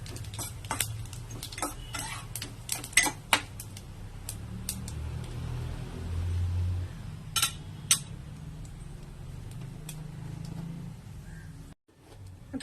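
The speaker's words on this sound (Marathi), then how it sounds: "तीळ आणि जिरं छान तडतडू द्यायचं आहे" Sesame seeds and cumin sputter in hot oil for a green tomato chutney, giving sharp, irregular crackles and pops over a low, steady sizzle, close up and without talk.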